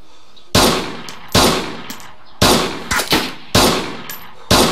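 Rifle shots from a Sporter in a first-person shooter game, five sharp loud cracks spaced about a second apart, each with a brief decaying tail and no talk over them.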